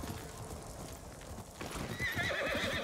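Horse hooves clip-clopping in Ghost of Tsushima, a steady galloping rhythm up close, with a whinny rising near the end and no talking.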